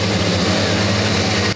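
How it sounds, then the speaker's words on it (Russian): Go-kart engines roar at a karting track near the village of Plastunka, a loud, sustained buzzing drone with layered low harmonic tones and no talk. "Рев моторов сегодня нарушил тишину в округе села Пластунка"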